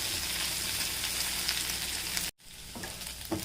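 Taro (chembu) frying in a pan with masala, a loud close sizzle that runs steadily, cuts out abruptly, then resumes more quietly with a couple of faint stirring knocks.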